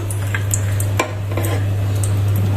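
Bay leaf dropped into hot oil in a pan for a Bengali home-cooked dish sizzles steadily, a close, continuous frying hiss with a few light stirring clicks and no talking.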